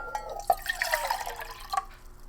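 Room-temperature water trickles and drips into a cup in a short, close burst of splashing and small glassy plinks.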